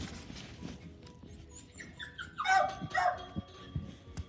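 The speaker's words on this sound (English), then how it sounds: "Oh, no, there's dogs over there." Dogs barking in the Sonic at the Olympic Games video game, a short cluster of yelps and barks over faint background game sounds.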